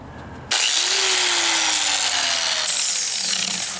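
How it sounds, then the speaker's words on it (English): Handheld electric grinder spins up and sands paint off a mowing deck's metal near a weld, a loud, close continuous whine that starts abruptly and holds steady, its pitch sagging slightly under load. "sand some of this paint off and clean up this area around the weld before I weld it."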